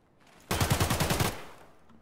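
A short burst of rapid automatic gunfire from a shooter video game, about eight fast evenly spaced shots, loud and close, with no talk.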